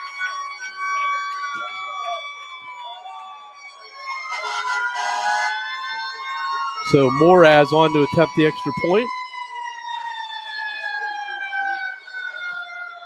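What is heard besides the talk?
sirens going off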